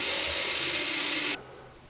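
Lego gears in a continuously variable transmission run with a close, steady whirring and clicking that stops abruptly just before the end, leaving near silence.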